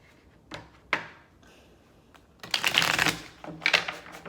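Tarot cards are shuffled by hand close by, with a few sharp taps followed by a longer riffling flutter of cards, alone with no talk.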